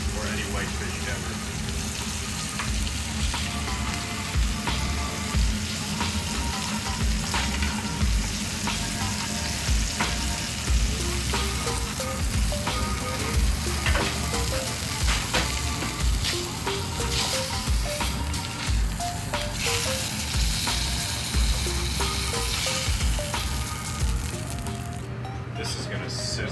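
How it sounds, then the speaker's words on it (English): Loud continuous sizzling of mystic grouper fillet frying in a piping hot skillet, crackling and spitting throughout, with occasional scraping and movement sounds close by. "This is gonna sizzle. Oh yeah. Piping hot skillet, fresh mystic."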